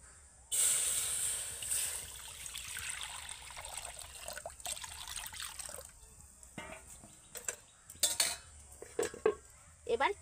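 Water poured and splashing into a kadai on a stove, with clinks of metal pots and utensils, a steady stream early on followed by sparse, sharper clatters near the end.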